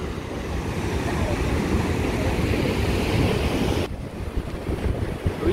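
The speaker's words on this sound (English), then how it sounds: "hoor jy die magtige dreuning by die jetty op Swakopmund" Rough ocean surf roars continuously at the Swakopmund jetty in Namibia, a loud, dense wash of breaking waves mixed with heavy wind buffeting the microphone.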